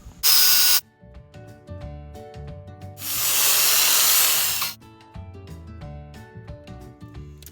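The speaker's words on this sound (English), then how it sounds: "let's go ahead and make 2 cuts on the side so we can open it up" Cutting into a metal exhaust resonator muffler, two bursts of harsh hissing power-tool grinding, the second longer, close and loud, with clattering handling noise between cuts.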